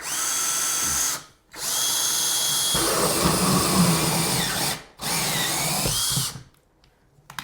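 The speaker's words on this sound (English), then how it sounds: "I'll go right here and we'll drill." A power drill whines loudly in three long bursts with short pauses between, its pitch dropping as it bites into a wall.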